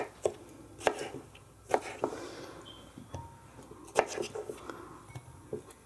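A knife chops cucumber into rough pieces on a board for a blender, making several distinct thuds at an uneven pace while a person talks quietly alongside.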